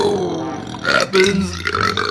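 A man lets out long, loud burps after gulping Coca-Cola, the belches rolling in close and raw, with a brief bit of talk before them.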